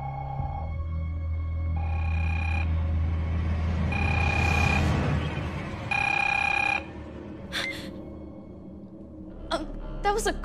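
A telephone ringing: several long electronic ring tones repeat at a steady pace amid ambient noise, followed by a few short sharp chirps near the end.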